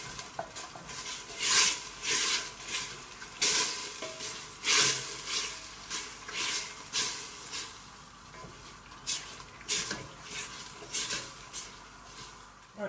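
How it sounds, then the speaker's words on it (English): Beef stock hits a hot pan to deglaze it, and bursts of hissing sizzle rise and fall repeatedly while a utensil scrapes and stirs the bottom, close and alone. "we're going to add the stock in. And just deglaze that pan to get the flavours out."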